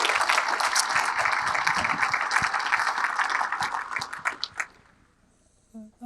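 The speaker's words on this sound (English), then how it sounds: "So can we just give a round of applause to the team for the great work this week?" A room full of people at a convention business session applauds steadily, the clapping thinning and fading out toward the end.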